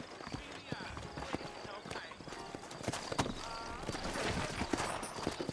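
Hooves clip-clop at a steady trot, several horses close together in the video game Red Dead Redemption, with a faint rumble and a brief whinny-like cry in the background.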